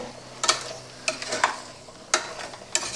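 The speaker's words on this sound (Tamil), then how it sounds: "பிரியாணி கிரேவியோட இந்த பட்டன் காலான மஷ்ரூம் வந்து நல்லா கிளறி விட்டுக்கோங்க" Button mushrooms being stirred into a biryani masala gravy, several distinct spoon scrapes and clinks against the pot over a soft sizzle.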